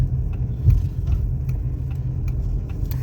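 A cheap used car drives along a road in Slovakia, its engine a low steady rumble from inside the cabin, with occasional faint ticks over the drone and no talk.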